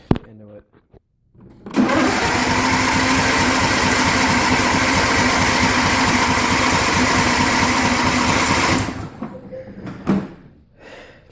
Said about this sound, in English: Might take a second for it to crank because it needs to get gas into it.